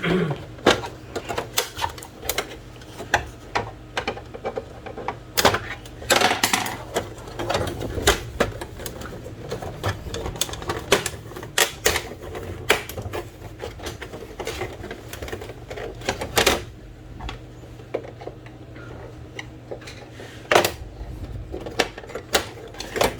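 A flat screwdriver prying and clicking at the plastic cover of a Brother DCP-T510W printer, with a dense run of sharp close snaps and taps, continuing unevenly throughout.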